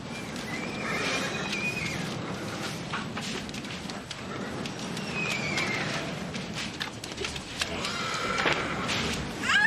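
Horses whinny and neigh amid a chaotic outdoor scene, with hooves clopping and shuffling, the calls rising over a dense, noisy background.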